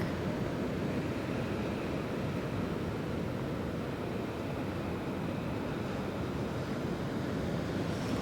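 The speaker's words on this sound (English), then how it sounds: "we can hear the ocean behind us" Steady, continuous roar of ocean surf with a low rumbling wash and constant hiss, with no distinct breaks and a touch of wind noise.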